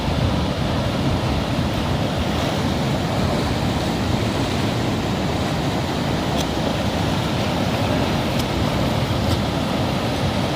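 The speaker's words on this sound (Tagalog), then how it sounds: "Tatangayin tayo dito ng" Strong river current at a dangerous crossing in Lupi, Camarines Sur, rushing as a loud, steady broadband roar that fills the whole stretch, with wind buffeting the microphone and no voices.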